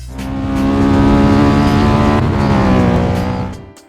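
Pantera car engine in the Roblox racing game Midnight Racing Tokyo, a loud steady tone held for several seconds that eases off near the end.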